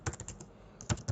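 A few quick keystrokes clack on a computer keyboard, close and fairly quiet, with a short gap between two clusters of taps.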